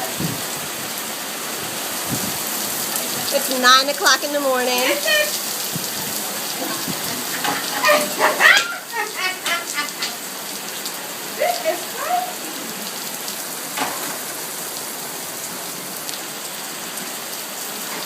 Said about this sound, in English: the rain and the wind is just starting.